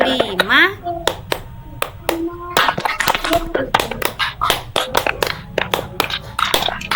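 A group claps hands in a counting clap game during a teachers' positive-culture session, sharp bursts of one, two and three claps in quick rhythm, interleaved with a leader's spoken counts and a brief vocal sound at the start.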